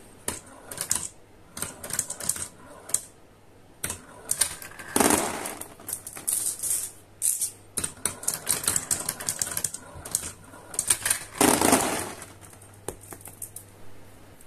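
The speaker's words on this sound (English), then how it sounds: "Marbles enter and travel through this kink, more of that in a moment, and onto the marble wheel." Marbles clattering through the wheel of the MMX marble machine, a busy patter of small hard clicks and rattling bursts in irregular clusters, fairly close and dry.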